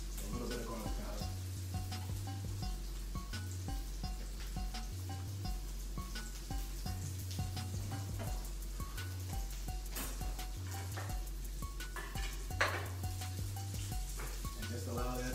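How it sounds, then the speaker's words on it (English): Garlic and herb chicken simmering and sizzling in a pan, a steady frying hiss running throughout with light clinks, while a low music bed plays underneath. "just allow that to simmer"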